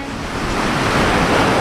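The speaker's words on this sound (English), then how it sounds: "we hope you can hear us with all this wind and waves" Strong wind and ocean waves roar at a boatyard where a sailboat has been lifted from the water, a steady, loud, close wash of surf and gusting wind with no voices.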